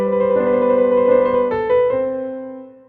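A piano plays a long, rapid trill that closes with a turn in Mozart style: quick, bright alternating notes ringing close and clear before settling onto a final tone that decays, with no voices.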